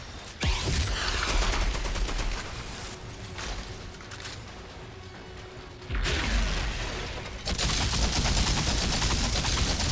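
Gunfire in the shooter video game Outriders, a dense continuous barrage of rapid shots and mechanical clatter with louder surges near the start and again in the second half, moderately loud throughout.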